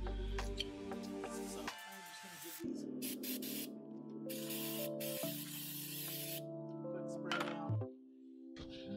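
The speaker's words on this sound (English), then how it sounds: "Wipe off with brake cleaner" Short hissing bursts of brake cleaner aerosol sprayed onto a brake caliper during a Toyota Tundra brake job, close and steady, separated by brief gaps and a few clicks.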